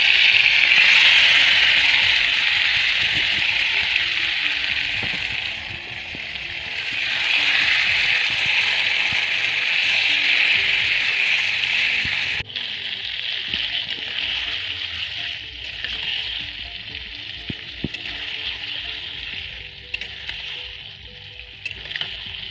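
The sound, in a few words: marinated meat frying in a kadai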